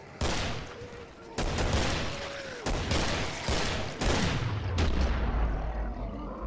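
Rifle fire from an M14 in the Killing Floor video game, several sharp shots in quick succession with a heavy low rumble building toward the end, loud and close, with voices talking in places.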